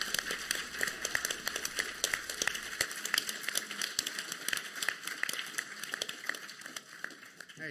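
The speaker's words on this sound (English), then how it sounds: "Hey, John, you heard a lot of that clapping." Audience clapping at a convention gaming booth: a dense, continuous patter of many hands applauding at moderate distance, fluctuating in intensity across the whole stretch.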